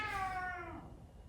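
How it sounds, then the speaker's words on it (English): A house cat gives a single clear meow, gliding down in pitch and fading within a second over a faint background hum. "Sorry, my cat is here, I think."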